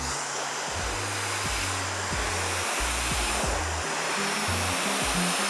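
A hair dryer roars steadily and loudly at close range, blow drying hair over a round brush. The airflow hiss stays constant throughout, with a low hum that shifts in pitch as the dryer moves.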